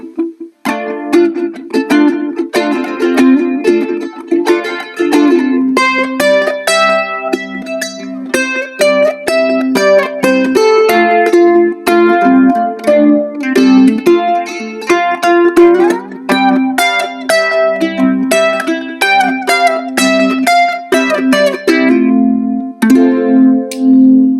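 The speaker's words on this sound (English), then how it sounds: "A bit of delay with a bit of chorus." Continuous picked ukulele melody through a Roland Mobile Cube amplifier, shimmering with chorus and echoing delay, bright and close, no voices.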